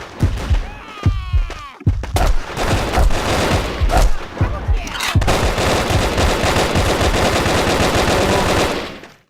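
Gunfire in the Brick Force video game: rapid machine-gun bursts and single shots, loud and close, ending in a long sustained volley.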